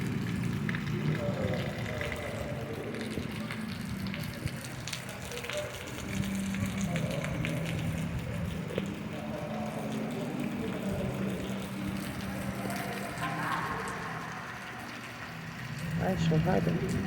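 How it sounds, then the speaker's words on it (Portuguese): Calm, steady rain falling in Salão, a soft continuous patter and hiss that holds at an even level throughout, with faint low background rumble underneath. "O som da chuva calma e tranquila."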